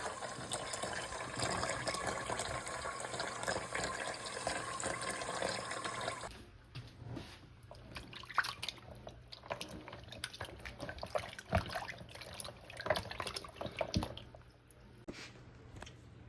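Running water rinses brined meat in an outdoor cooking setting, a steady broad splash for about six seconds, then softer intermittent squishing and dripping as the meat is handled under the flow.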